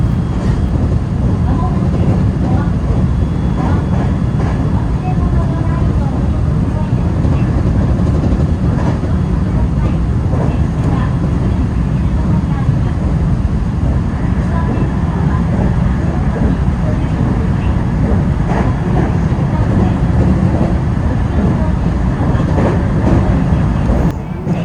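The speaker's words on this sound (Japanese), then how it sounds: "かなりかっ飛ばしておりますが、これは快速普通列車関係なく飛ばしていきます" IR Ishikawa Railway rapid train running at high speed on a long straight section between stations, heard from on board as a loud, constant rumbling roar with rhythmic rail clatter throughout.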